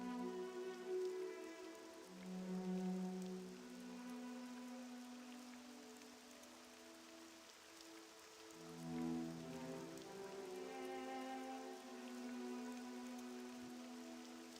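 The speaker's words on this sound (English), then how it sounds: "Starting to rain." Steady rainfall in the video game Morrowind, a soft continuous patter on surfaces running throughout, with tonal ambient game music layered over it and no voices.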